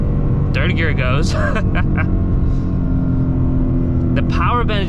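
Ford Mustang GT in track mode accelerating in third gear, a loud, close engine drone with steady low rumble throughout while someone talks over it.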